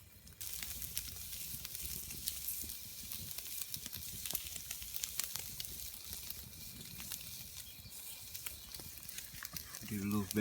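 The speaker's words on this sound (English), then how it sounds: "Bacon is on, nice thick cut bacon." Thick-cut bacon frying over a campfire outdoors, a steady crackling sizzle that runs the whole time at moderate level, with a brief rustle near the end.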